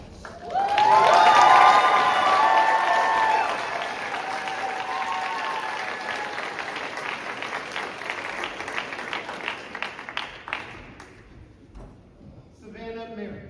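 Audience applause for students at a spring high school choir concert in a school venue: a swell of clapping that peaks early, then tapers into lighter scattered claps with voices and noise around it.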